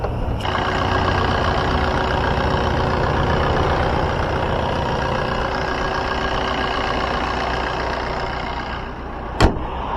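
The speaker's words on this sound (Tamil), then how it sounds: "இப்போ வாங்க வண்டியோட இன்ஜின் சவுண்ட் எப்படி இருக்குது அப்படின்றத" Diesel Maruti Swift Dzire idling, a steady even engine drone held for about ten seconds, close and constant, with a single sharp click near the end.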